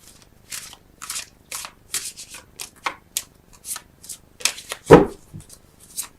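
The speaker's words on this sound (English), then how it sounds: "I think I'm going to get 3 more cards on this wheel for you." Tarot cards are drawn and handled in a series of short, crisp shuffling and sliding rustles, close and fairly quiet, with a louder slap near the end and no talking.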